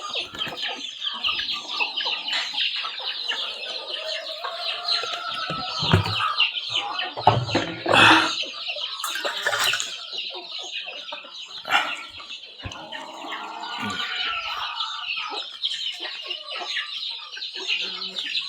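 Many chicks and chickens on a farm, with constant high peeping and scattered clucks and squawks close by, plus a brief flurry of flapping. No talking.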